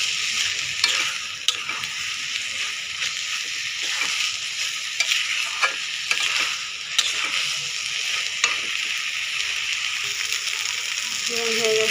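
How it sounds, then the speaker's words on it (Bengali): Pabda fish roe fries in a pan with a steady, close sizzle, and a spoon scrapes through it in repeated stirring strokes. "আমি এখন ভালো করে ভেজে নেব।"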